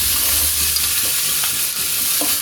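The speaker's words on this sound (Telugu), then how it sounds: "కొబ్బరి ముక్కలు ఫ్రై చేస్తున్నాను, వేయించుతున్నాను, దోరగా వేయించేస్తున్నాను కొబ్బరి ముక్కలు." Coconut pieces fry in a pan with a loud, continuous close-up sizzle and faint stirring taps, no voices.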